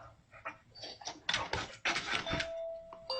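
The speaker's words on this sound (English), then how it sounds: "Oh, it's ringing the doorbell." A doorbell chimes amid scuffling and a dog's excited yelps and panting, with a sustained electronic tone ringing near the end.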